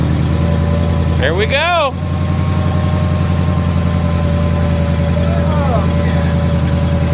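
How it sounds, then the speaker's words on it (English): Ford Mustang Dark Horse V8, fresh from an oil pump gear and valve spring job, fires up for its first start and settles into a steady, loud low idle, with voices talking briefly over it. "This is going to be a legitimate first start."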